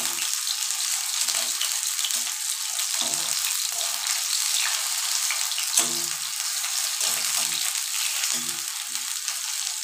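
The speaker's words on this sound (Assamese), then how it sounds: "গোটাইখিনি মই এনেকৈ ভাজি ল'ম।" Bombay duck (lote fish) fritters fry in hot oil with a steady, loud broadband sizzle, broken by a few soft low knocks and stirring clatters scattered through.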